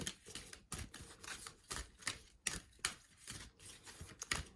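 Tarot cards being shuffled by hand, a run of crisp, papery riffles and taps that come in quick irregular bursts, close and fairly faint, with no talking over them.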